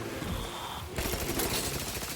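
Gunfire in The Outer Worlds, a sudden burst of shots that starts about halfway through and keeps going loudly over a busy game soundscape with no talking.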